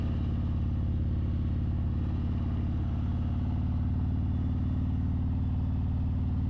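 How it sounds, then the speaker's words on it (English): A motorcycle idles steadily while warming up on a cold New Year's Eve ride day, a continuous low rumble held close and even throughout with no talk over it. "Good to get the bike out and let her just warm up a bit."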